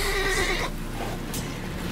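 A horse in The Witcher 3 gives one loud, close whinny that trembles and fades within about a second, followed by quieter game ambience.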